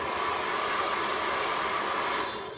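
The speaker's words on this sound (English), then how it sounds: "I have a hairdryer here," A hair dryer blows with a steady, loud whooshing hiss and no voices, easing slightly at the end.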